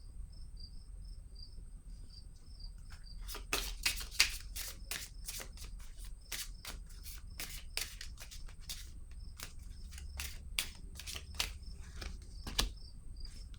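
Crisp rapid riffling of playing cards being shuffled and dealt, bursts of quick snaps and flicks clustered together over a faint steady background whine, with no talking.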